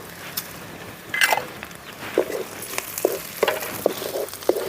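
Cumin seeds and dried red chillies frying in hot oil for a beetroot fry, giving a steady soft sizzle with a scatter of brief clicks and crackles and some louder stirring scrapes, close by with no talk.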